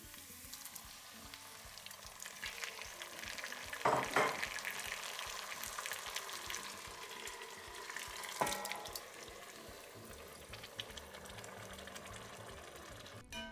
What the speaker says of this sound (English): You can hear the sizzling, yet we see no color, so you know the heat is doing its job